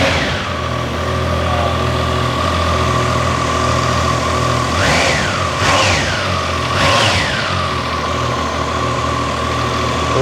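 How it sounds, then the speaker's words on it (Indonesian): A Triumph Tiger Sport 660 motorcycle engine idles steadily and close up, with three quick throttle blips rising and falling near the end. "Kira-kira bagaimana suara dari motor ini?"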